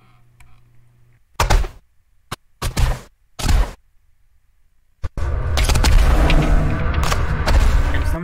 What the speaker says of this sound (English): Now an explosion happens before the final giveaway.